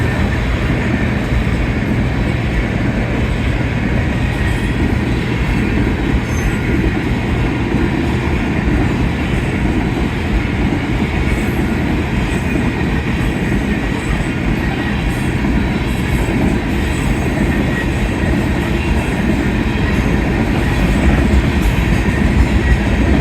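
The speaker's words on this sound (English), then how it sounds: "this train is definitely moving quick" Union Pacific 7247, an outbound manifest freight train at Lindsay Road, passes quickly and close by with a loud, unbroken roar of wheels and rumbling cars that continues throughout.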